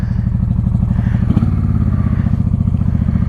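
A 1995 Honda Shadow VLX 600 VT600CD on a ride, its V-twin engine heard up close as a loud, steady, throbbing low-pitched putter, with a brief thump partway through.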